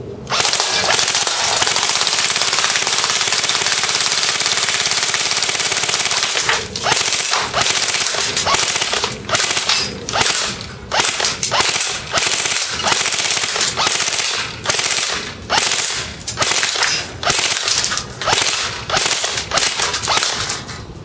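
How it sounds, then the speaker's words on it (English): Long full-auto burst from a G&P Magpul MOE PTS airsoft gun, firing at 930 rounds a minute: a loud, close, continuous rattling stream that later breaks into rapid choppy bursts. "please never do a full auto burst that long with your gun"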